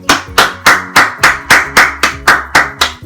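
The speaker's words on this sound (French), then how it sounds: "on peut l'applaudir" Sharp, single claps repeat about every third of a second in an even, loud beat, close up and dry, each a crisp slap with a short ring, and no other sound around them.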